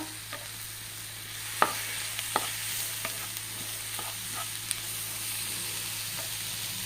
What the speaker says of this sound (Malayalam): തക്കാളി ഇട്ട് തക്കാളി നന്നായിട്ടൊന്ന് വഴറ്റുക